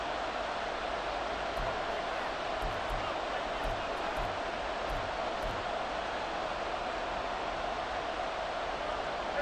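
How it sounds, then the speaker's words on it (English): Stadium crowd roar in Madden NFL 24 during a tied Cowboys versus Chiefs game in the final two minutes, a steady dense wash of crowd noise with faint thumps, no clear talk. "This crowd turning up the decibel level"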